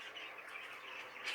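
A variegated Fife canary in a show cage gives faint, continuous twittering chirps throughout, with a slightly brighter call near the end and no talking.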